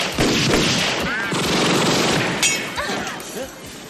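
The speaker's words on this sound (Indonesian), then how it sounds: "Kemudian Qingmi disuruh menembak agar Rai Tai bisa kabur dulu" Pistol gunfire in a tense film scene rings out as several sharp shots over a dense, loud soundtrack, with voices and other action noise mixed in.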